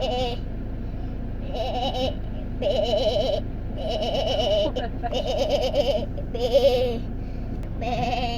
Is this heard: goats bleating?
yes